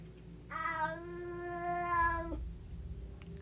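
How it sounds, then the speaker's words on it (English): A pet cat gives one drawn-out, loud meow close by, rising and then cut off, alone over a faint low background hum. "That's my cat."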